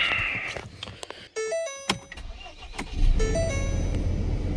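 A Ford Ranger jump-started from a Tesla cranks and catches, with short rising whirs and clicks before the engine settles into a loud, steady idle up close.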